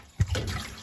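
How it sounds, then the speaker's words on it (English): Water squirted from a water bottle to rinse the inside of a dishwasher, a brief splash followed by a short trickling wash. "Always have a water bottle to rinse with."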